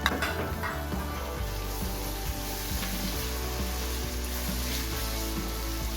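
A medium-sized tomato hits browned frying onions in a pan, setting off a loud, close, continuous sizzle with a brief sharper burst at the start, then an even crackling hiss.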